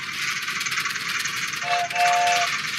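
A toy train runs in the horror game Frosty Nights, giving a loud continuous mechanical rumble and rattle, joined near the end by a short two-part whistle-like tone.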